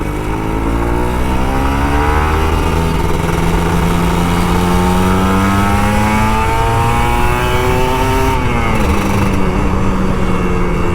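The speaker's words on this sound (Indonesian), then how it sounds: "Sikan ngegas tipis-tipis dan kita nikmatin dulu" An old Kawasaki Ninja RR 150 two-stroke motorcycle revs loudly and up close, its engine climbing steadily in pitch before dropping back and settling, with no talking over it.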